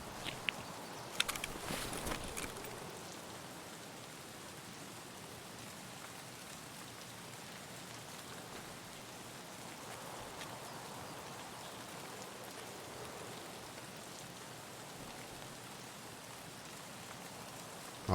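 Steady, soft rain falls in Escape From Tarkov, an even wash of patter that carries on throughout, with a few brief knocks near the start.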